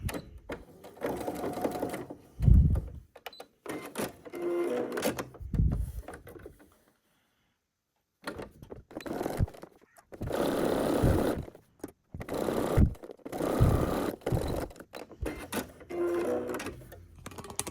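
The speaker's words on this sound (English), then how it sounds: "let's start sewing with 5 millimeters seam allowance" Sewing machine stitching a fabric hair scrunchie with a 5 mm seam allowance, running in bursts of rapid mechanical whirring and clatter separated by short pauses and one longer silent gap, close up.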